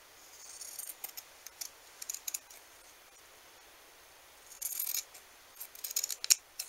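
Scissors snip and cut while trimming fabric for a homemade Christmas cider mix pouch, with scattered close, crisp clicks and bursts of rustling between quiet pauses.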